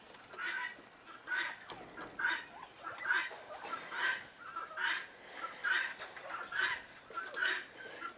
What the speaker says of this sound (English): let me tell you a little bit about the quail